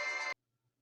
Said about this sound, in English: So if you heard my phone